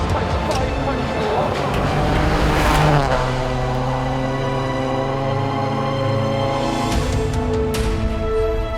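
A Subaru rally car roars past at speed on a Rally America stage, engine revving and shifting, with a commentator talking over the loud racing noise.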